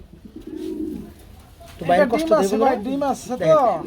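Black Mondain pigeons in a cage give a soft, low coo, then someone talks loudly close by.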